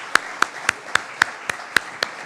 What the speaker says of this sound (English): let's everybody give ourselves a round of applause